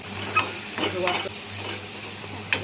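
Roasted onion, coconut and coriander being sautéed in a pan, with a soft sizzle under intermittent stirring and a few sharp scrapes of the spoon.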